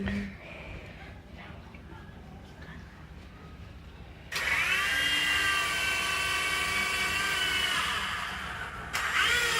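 A mini toy helicopter starts up partway through and whirs loudly and steadily with a high, strained rotor whine, after a stretch of quieter background noise and voices.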